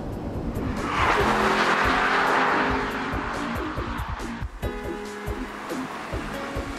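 Porsche 997 engine revving hard, climbing through the revs and then settling back into a quick series of lower rumbling pulls, loud and near with no talk.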